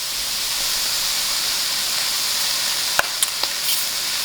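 Cranberries blister and sizzle in a pan while cooking into chutney, a steady loud frying crackle broken near the end by a few sharp pops.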